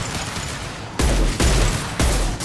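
Video game combat gunfire in Mass Effect 2, a few sharp loud shots spaced out over a second or so, close and punchy with a low thump under each.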